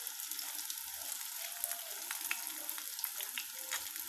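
Water lily flower fritters fry in hot oil with a steady, soft crackling sizzle, dotted with small pops and spits, heard up close with no one talking.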